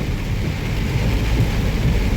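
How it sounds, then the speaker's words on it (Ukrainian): Rain falls and water runs over asphalt in a steady, broad, loud rush that lasts throughout, with no voices. "Ось такий дощик, бачили?"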